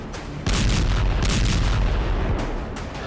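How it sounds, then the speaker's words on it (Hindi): Rocket launcher fire in the Azerbaijan-Armenia war over Nagorno-Karabakh, a sudden loud blast at about half a second followed by sustained roaring booms and rumbling barrage, with later bursts layered over a constant heavy low roar. "रॉकेट लॉन्चर से हमले की तस्वीर भयानक जंग के शुरू होने का सबसे बड़ा प्रमाण दे रही है।"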